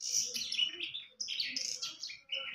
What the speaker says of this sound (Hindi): ये है चिड़िया